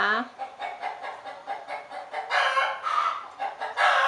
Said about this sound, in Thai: ไก่เป็นอะไรกระตากกันจริงเยเชียว